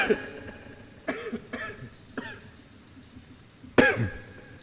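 Several dry coughs burst out one after another, close by, ending with a louder harsh cough and a throat-clearing sound.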